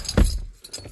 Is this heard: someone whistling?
no